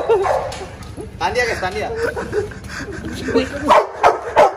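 A German Shepherd dog gives short yips and whimpering barks near the end, with a person talking over it earlier.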